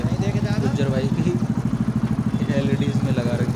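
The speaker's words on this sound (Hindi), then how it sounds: "साउंड भी आप सुन पा रहे होंगे, ये बाइक है हमारे गुज्जर भाई की" A Hero Splendor motorcycle with freshly repaired piston rings idles with a steady, rhythmic low thump, close by, under continuous talk.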